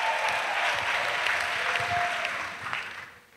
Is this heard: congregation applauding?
yes